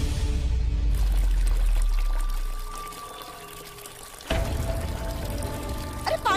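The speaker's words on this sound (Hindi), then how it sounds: "अरे देखो तो कितना पानी बह रहा है।" Water pours and gushes into a house in a Hindi TV drama, a loud rushing flow over a deep rumble that eases, then surges again with faint voices in the background.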